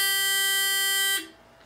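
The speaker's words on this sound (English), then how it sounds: "it will give off a long continuous buzz as an alarm to tell us that the match is over" A tabletop match timer sounds its end-of-match alarm, a loud, steady electronic buzz held close up for about a second before cutting off, with no talk over it.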